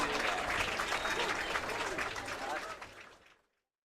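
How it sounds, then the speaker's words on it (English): A crowd at a high school football game applauds the senior members of the Viking Marching Band, a dense burst of clapping from a distance that holds steady and then fades out. "let's have a nice round of applause for the Oakland Catholic and Central Catholic senior members of the Viking Marching Band"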